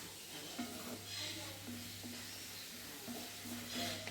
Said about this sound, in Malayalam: ഇടയ്ക്കിടയ്ക്ക് നമ്മൾ മിക്സ് ചെയ്ത് കൊടുക്കണം കൂടെ കൂടെ ഒന്ന് ഇളക്കി